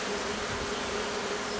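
Honeybees buzzing at an open hive during a spring apiary inspection: a dense, steady, close swarm drone with a faint tonal hum, continuous and alone, no voices.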